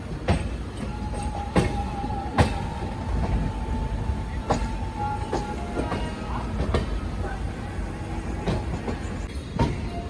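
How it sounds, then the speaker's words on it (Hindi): Shri Mata Vaishno Devi Katra–Jabalpur Weekly Superfast Express 11450 rolling out of Ludhiana onto the Jakhal line around a curve, a steady close rumble with repeated sharp wheel clacks over joints and a faint thin squeal. "अपनी ट्रेन बढ़ गई लुधियाना जाखल लाइन की ओर और बहुत ही प्यारे घुमाव कर्व के साथ"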